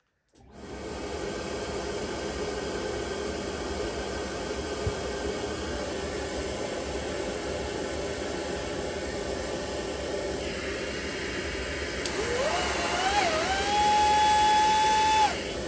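A Centech Aeon wall mount vacuum roars with a steady broadband whoosh during an airflow test, and a rising whine and tonal hum join near the end.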